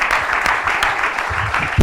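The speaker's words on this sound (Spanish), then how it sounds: "Dale un aplauso al Señor" Church congregation applauding, a steady dense wash of clapping that runs the full length without pause and swells briefly at the end.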